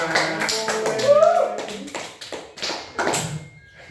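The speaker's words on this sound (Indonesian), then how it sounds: "Beri tepuk tangan untuk kita semua." A classroom group claps together during a fiqh lesson taught by peers, loose overlapping claps close by with voices and chatter mixed in among them.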